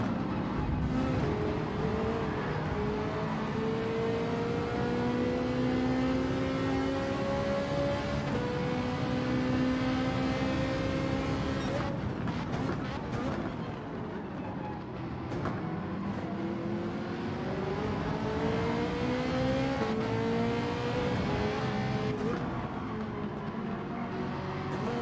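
A race car engine in Gran Turismo 7 accelerates hard, its loud tone sweeping up through the gears, dipping briefly at a shift and then climbing again in a continuous, close drone.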